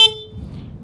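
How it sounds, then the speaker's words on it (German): A 2022 Honda CB500X motorcycle horn gives one very short, bright beep at the start, leaving a faint lingering tone that fades into quiet background noise. "Wir haben die Hupe hier."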